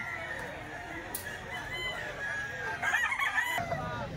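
Chickens in a dark grotto, a rooster crowing and hens clucking over a steady murmur of ambient noise, with a louder burst of calls near the end.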